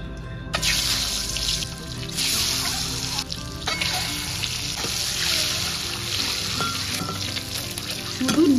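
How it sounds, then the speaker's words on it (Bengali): An egg frying in hot oil with salt and turmeric, a loud continuous close sizzle with occasional stirring scrapes and clinks throughout. "নুন হলুদ তেলের মধ্যে দিয়ে তারপর ভাজি।"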